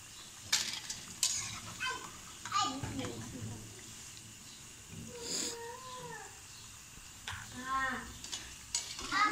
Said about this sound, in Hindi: तो चम्मच हिलाते रहना है ताकि अंदर से बाहर तक अच्छी तरह से पकोड़े बन जाएं